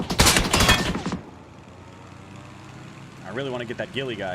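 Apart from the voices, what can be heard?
gunfire in video game PUBG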